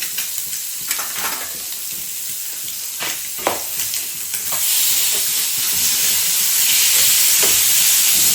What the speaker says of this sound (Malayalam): മീന് നമ്മൾ മസാല പരത്തിയിട്ട് ഫ്രൈ ചെയ്യാൻ വെച്ചിട്ടുണ്ട്